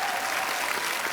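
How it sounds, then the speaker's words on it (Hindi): A TV comedy show's studio audience claps loudly and densely, a steady wash of applause with no voices standing out. "इसके लिए भी जोरदार तालियां"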